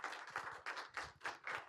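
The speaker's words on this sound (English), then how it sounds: "Give Dr. Carr a round of applause, please" Brief, light applause from a campus lecture audience, with about six rhythmic clusters of claps, quiet and somewhat distant.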